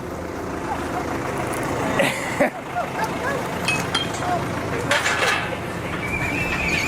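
Horses whinny and hooves clop amid a busy outdoor farm din of voices and clattering, with a couple of sharp high neighs standing out over steady background noise.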